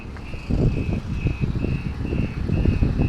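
Container trucks backing up on the Samruddhi Mahamarg expressway near the Amane interchange sound a steady, evenly spaced electronic reversing beep over the low, loud rumble of idling engines nearby.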